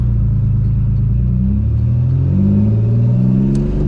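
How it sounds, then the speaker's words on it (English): A turbocharged 3800 engine in a Camaro revs and surges, its deep, loud rumble rising and wavering steadily throughout with no talk. "And the engine surging like this is like not good for it either"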